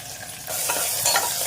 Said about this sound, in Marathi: एक बारीक चिरून घेतलेला कांदा घालून घेतला